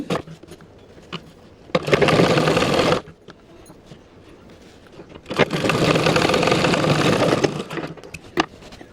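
Sewing machine stitching a blouse, two loud bursts of rapid motor-driven stitching about a second and two seconds long, separated by a quiet pause with scattered small clicks and handling noises.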